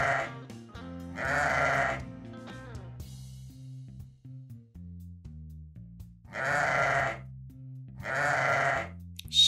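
Sheep bleating on a farm, two long, wavering calls separated by a pause, clear and close, with a gentle low tonal background underneath.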